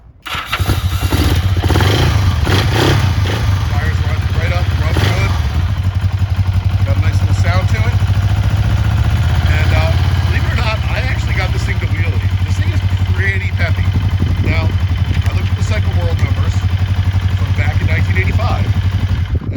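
A 1986 Kawasaki 454 LTD motorcycle engine fires up and runs loud and close, settling into a steady throbbing idle punctuated by throttle blips, with a voice talking over it.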